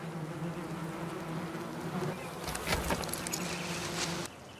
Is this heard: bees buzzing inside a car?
yes